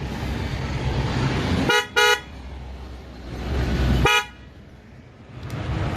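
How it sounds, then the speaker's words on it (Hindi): Helex horns on a modified Bajaj Pulsar NS200 motorcycle blast in two short, loud honks, then a single longer honk a couple of seconds later, close by over a background of engine noise. "हेलेक्स के ओरिजिनल हॉर्न भी लगा दिए गए हैं"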